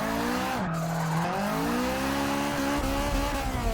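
A turbocharged front-wheel-drive Acura RSX Type S in Forza Motorsport 6 revs hard, its engine tone rising and falling while tires squeal and skid, loud and continuous with no voices.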